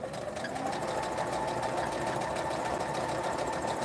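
A sewing machine stitches a seam on an arrowhead quilt block, a steady rapid mechanical whir and needle clatter running continuously up close without speech.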